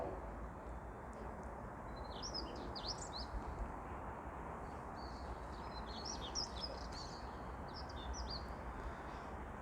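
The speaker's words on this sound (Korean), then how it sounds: "새소리가 좋아서 새소리 효과음 들어갑니다" Faint birdsong sound effect: bird chirps and short song phrases repeat in the background over a steady, fairly loud broadband hiss, with no talking.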